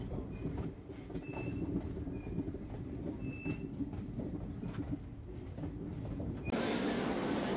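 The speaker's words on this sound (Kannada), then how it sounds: "ಶಿರಡಿಯಲ್ಲಿ ವಂದೇ ಭಾರತ್ ನೋಡ ಈಗ ಕೇಳ್ತಾ ಇದೆಯಲ್ಲ" A Vande Bharat train at Shirdi railway station, heard from on board or alongside as a low continuous rumble with wheel clatter and faint squeals, growing louder with a rush of noise near the end.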